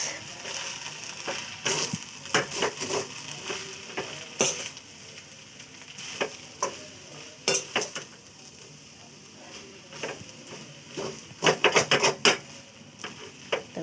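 Noodles with salt are stirred in a pan, the utensil scraping in irregular bursts, some rapid and clustered, over a steady low sizzle, heard up close.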